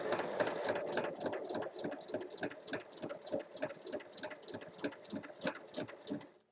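A sewing machine stitches an origami bag in a fast, even run of needle strokes, close and continuous, with the rhythm easing slightly near the end.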